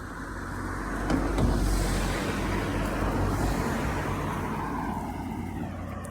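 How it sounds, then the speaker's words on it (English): A car passes along a road, a broad steady roar swelling slightly around the middle and lingering, heard alone outdoors near a walker. "hang on, there's a car"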